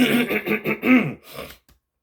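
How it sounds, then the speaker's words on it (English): A single person clears their throat with a rough, gravelly rasp, a few quick pulses trailing off into silence. "Let me clear my throat."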